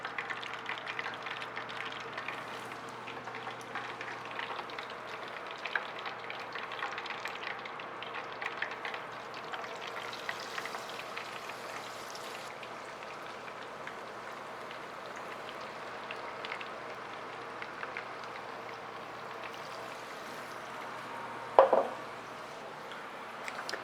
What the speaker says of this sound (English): while we wait for this fish to fry